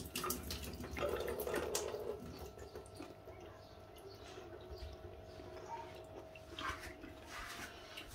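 Liquid from a can of corn poured off into a sink, a steady faint splashing and trickling stream that runs for several seconds in a kitchen.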